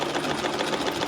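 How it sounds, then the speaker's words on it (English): A sewing machine runs steadily in a small Amish-town workshop, a fast continuous mechanical whir with rapid stitching chatter, close and fairly loud throughout with no voices. "This is the sewing machine."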